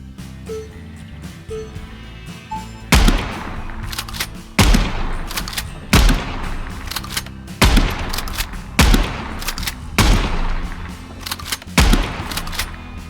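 Gunfire from a Colt M1911 pistol and a Mossberg M590A1 shotgun in the video game Gunsmith Simulator: six loud, sharp blasts about 1.5 seconds apart, each with a brief ringing tail, after a quiet start.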